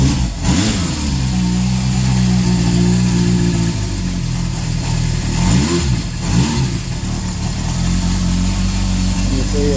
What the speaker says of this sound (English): And you see it settles into a nice smooth idle.